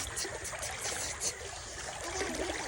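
A steady trickle of running rainwater, bright and splashy, continuing without pause with no voices.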